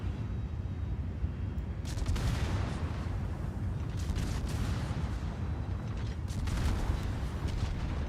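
Ship guns in a naval video game fire at an enemy cruiser, with several heavy booming salvos over a constant low engine and sea rumble and no talking.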